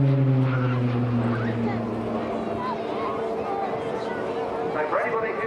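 A Tucano turboprop aircraft drones overhead in an airshow display with a steady engine tone that slowly shifts in pitch, heard from a distance while people talk nearby.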